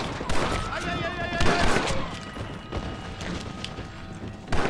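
Gunfire in the Western video game Red Dead Redemption: a burst of rapid shots followed by scattered cracks, with game sounds underneath and a sharp final shot near the end.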